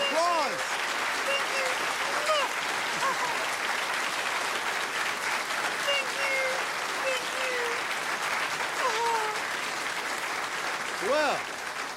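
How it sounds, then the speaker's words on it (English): Studio audience applause at a television variety show, a steady, moderately loud wash of clapping with voices talking and exclaiming over it. "Listen to that applause."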